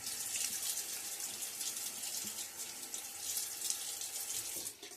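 Tap water runs steadily into a sink to wet a face before shaving, a soft, continuous splashing stream heard alone at low volume.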